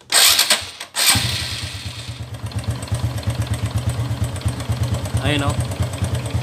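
Noisy motorcycle engine with a knocking fault kicks over and settles into a rough, loud idle with a steady rapid tapping knock, recorded close, while someone talks briefly over it.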